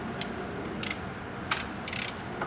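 A 13mm socket wrench ratchets on a bolt of a Porsche 924 Turbo alternator, giving several short bursts of clicking, close and fairly quiet over a low background hiss.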